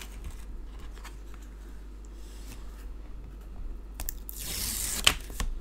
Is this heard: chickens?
no